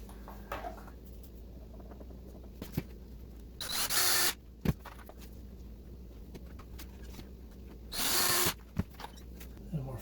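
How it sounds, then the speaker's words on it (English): A power drill drives screws into a melamine shelf unit in two short whirring bursts about four seconds apart, close by but fairly quiet, with faint handling clicks in between. "A few more screws."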